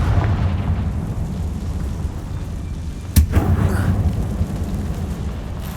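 Confringo spell from Hogwarts Legacy firing off as a single sharp burst over a steady low, rumbling game background, followed by a short crackling tail.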